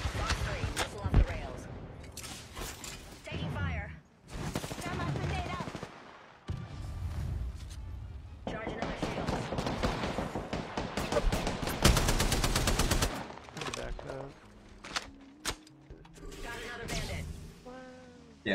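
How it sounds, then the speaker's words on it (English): Charge rifle fire in the Apex Legends battle royale game, heard as sharp gunfire bursts mixed with other weapon shots during a firefight, loud and close, with players talking over the action. "Yeah, that charge rifle's nasty."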